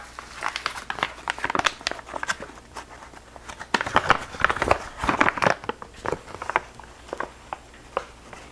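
A bag of flour is handled close by to measure out four cups, giving repeated crinkling and rustling with soft taps and scoops in an irregular rhythm and no talking.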